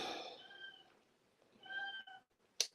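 A house cat meows twice, close and clear, each call drawn out with a rising and falling tone, followed by a short sharp sound at the end.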